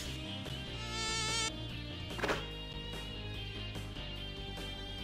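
Bees or wasps buzz steadily in the video game Lunar: Silver Star Harmony, a droning insect hum set among sustained game music tones, with a brief louder burst partway through.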